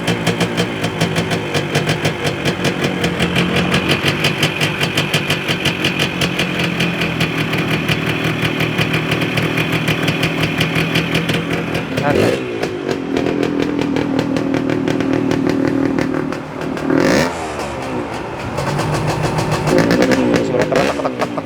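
A Suzuki TS 125 two-stroke motorcycle engine runs continuously at a fast, buzzy idle, with a few brief revs partway through; no voices.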